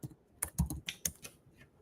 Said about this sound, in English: Let me just type in plumber Atlanta,